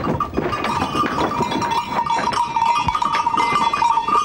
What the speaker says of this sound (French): Ces chèvres à la robe noire ou rouge et aux cornes en lyre.